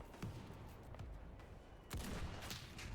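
Gunfire in a Roblox war game, a burst of rapid digital shots that starts faint and then grows louder and denser near the end, with no voices over it.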